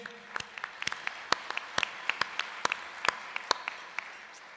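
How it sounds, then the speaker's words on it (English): Sparse, quiet clapping from a small audience at a senior awards ceremony, a scattering of distinct hand claps rather than a full ovation, set against a faint room background. "Let's give it a round of applause, please"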